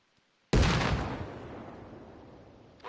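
A single grenade explosion in the video game Gogland Operations: a sudden sharp blast after a brief silence, followed by a long rumbling decay that slowly fades.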